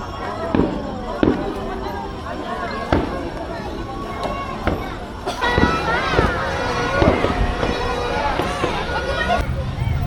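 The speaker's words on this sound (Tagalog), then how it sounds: "Fiesta ng Kalapan, so may fireworks." Fireworks boom at a town fiesta on a New Year's night in Calapan, sharp bangs and crackling bursts recurring every second or so, with crowd chatter and talking throughout.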